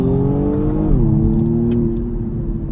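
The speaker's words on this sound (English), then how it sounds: "Press the brake down, smash the acceleration. That's launch." A 2020 BMW M135i xDrive engine roars under hard acceleration on a launch-control start, loud and close, with a steady rising drone and a brief pitch shift as it launches.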